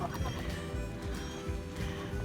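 Jumbo Cornish Cross meat chickens, eight weeks old, cluck and murmur together in a low continuous chorus at close range, with a faint background hum.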